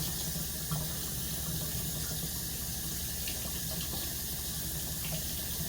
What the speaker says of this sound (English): Let's see if the hot water works.